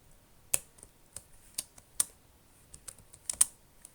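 A computer keyboard being typed on, sparse close clicks and taps in an irregular rhythm of about a dozen keystrokes over a quiet background.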